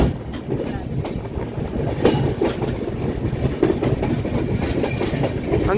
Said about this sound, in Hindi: गाइस हम लोगों की ट्रेन जो है धनबाद एंटर कर रही है